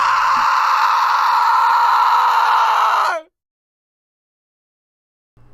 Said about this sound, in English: they heard in the distance a loud, horrifying scream